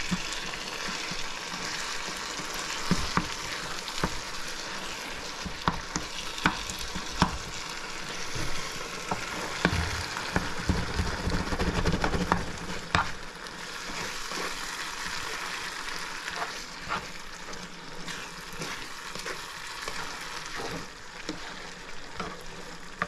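Vegetables and smoked herring frying in a pan on a stove, a constant soft sizzle with intermittent scraping and stirring clicks, louder bursts of crackle midway, no talking.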